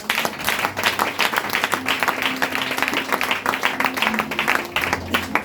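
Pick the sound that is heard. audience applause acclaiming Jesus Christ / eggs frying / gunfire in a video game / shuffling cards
audience applause acclaiming Jesus Christ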